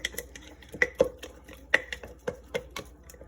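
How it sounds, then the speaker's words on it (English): Utensil clinking and tapping against glass in an irregular rhythm, sharp ringing knocks close by as rehydrating sourdough starter flakes are stirred inside a jar. "stir it, stir it, stir it. Get to the bottom."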